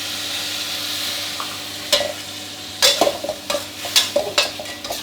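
Pork belly with lemongrass stir-fried over high heat: a steady sizzle runs throughout, joined from about two seconds by repeated scraping, clattering spatula strokes against the pan, close and fairly loud.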